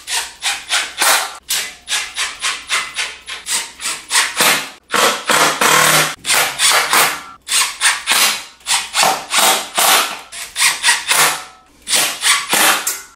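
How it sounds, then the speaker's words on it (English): Screwdriver driving pre-drilled screws into the wood of an Enjoywood 60-inch heavy-duty adjustable workbench: repeated close, loud rasping strokes in a steady back-and-forth rhythm, with brief pauses between runs of turns. "you're gonna take your screwdriver and the pre-drilled screws in the wood."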